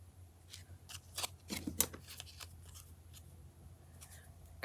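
Scissors snipping through pieces of card for a crafting project, a quick irregular run of crisp close cuts, fairly quiet with faint room hum beneath.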